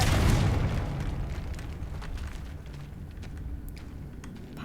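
A Confringo fire spell in Hogwarts Legacy bursts into a loud, close explosion, a deep rumbling boom that fades out over several seconds with faint crackling debris.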